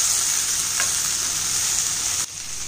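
Continuous loud sizzling of onion and tomato frying in hot oil, a steady hiss that dips briefly near the end.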